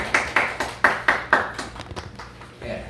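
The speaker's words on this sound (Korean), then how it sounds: "박수 한번 쳐주세요." Scattered clapping from a small church congregation during a Sunday service, a handful of separate claps early on thinning into softer irregular taps, fairly close in a quiet room.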